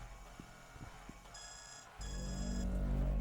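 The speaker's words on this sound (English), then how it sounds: "It's, some sort of alarm" Video game lockdown alarm kicks in partway through: a sharp electronic beeping tone in repeated bursts, joined by a low rumbling drone, faint and alone after a few soft thumps.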